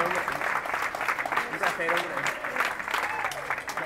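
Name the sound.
applause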